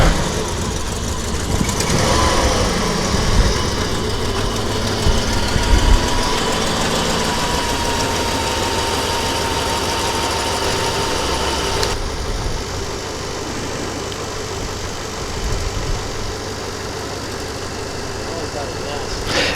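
A 2000 Dodge Ram 1500 with a Magnum engine idles after a hard cold start, a steady rough rumble with vibration that settles slightly quieter partway through, while people talk nearby.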